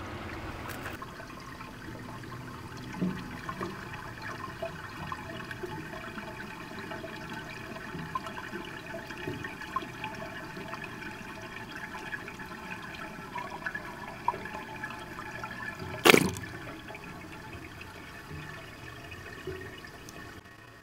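Water draining through a drop siphon in a flood and drain cycle, a steady low trickling and gurgling flow throughout, with one brief louder splash or gurgle near the end.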